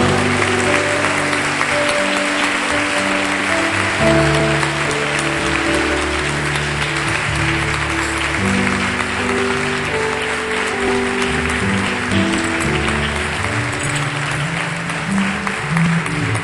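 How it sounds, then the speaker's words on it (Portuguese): Church congregation clapping for the Lord, a loud sustained wash of applause with organ or keyboard chords playing underneath throughout. "Dá um aplausão aí para o Senhor."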